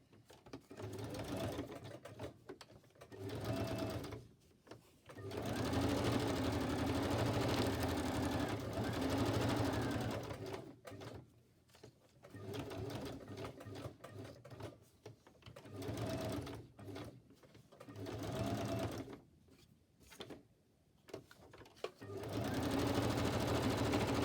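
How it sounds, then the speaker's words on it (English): A sewing machine stitching around layers of paper journal ephemera, running in several sustained bursts separated by short pauses, close and steady with a whirring hum. "And then I'm going to stitch around that."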